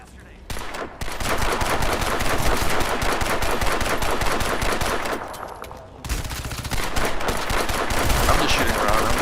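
Dense, loud automatic gunfire from the PC shooter Crysis 2 rattles almost continuously, with a brief lull partway through before the bursts resume.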